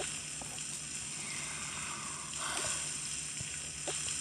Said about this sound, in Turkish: Ellerimi yıkıyorum.